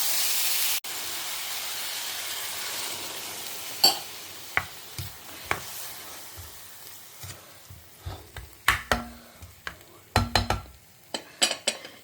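A Jhinga bhapa prawn dish simmering in a covered pan, with a soft steady hiss of steam under scattered clinks and knocks of utensils and the pan.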